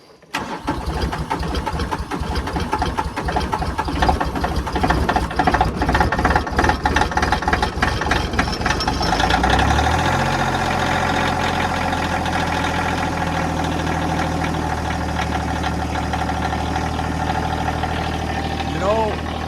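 A tractor used for snowplowing a camp road cranks in a rapid, stuttering chug for several seconds, then catches and settles into a steady, loud, close idle that runs on evenly.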